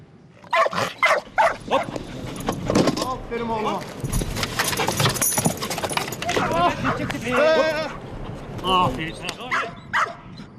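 Police dogs in training in Istanbul bark and yip repeatedly in sharp close bursts, with whimpers and jangling metal between, while people talk throughout.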